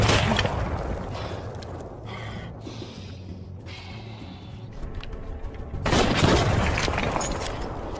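Gunfire in a war film sniper exchange, with dense sharp cracks and booms over a rumbling background that dips briefly, then surges loud again near the end.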